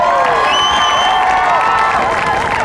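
An audience at a school family night band program cheers and applauds for middle school band teachers, a loud, close burst of clapping with high whistles and whoops riding over the crowd.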